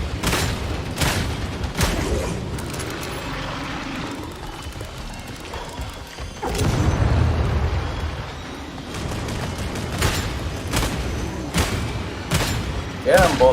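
A bolt gun fires in the video game Warhammer 40,000: Darktide, a series of sharp heavy booming shots spaced irregularly among chaotic combat noise, with a player talking during the fight.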